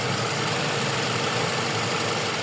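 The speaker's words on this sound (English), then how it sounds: "Yeah, the car is running, as you can hear." A 2009 Toyota Camry LE engine idles with the hood open, a steady, even mechanical hum and whir that holds constant and close throughout with no other sounds.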